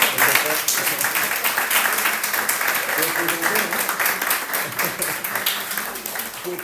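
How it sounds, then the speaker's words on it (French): A church congregation applauding, a dense sustained patter of many hands clapping at steady loudness, with voices mixed in beneath. "On peut applaudir pour..."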